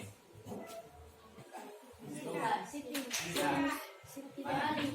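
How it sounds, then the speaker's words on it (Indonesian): A school class claps hands together in a patterned rhythm, several bursts of clapping with pauses between, at moderate volume among children's voices. "Selanjutnya kita tepuk tangan PPK."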